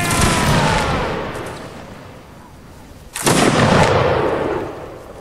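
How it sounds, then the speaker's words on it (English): Massed musket volleys in the Napoleonic Wars battle game Mount and Blade, two loud crackling rolls of gunfire a few seconds apart, each fading away, close and dominant. "Present. Fire. Fire! Good volleys."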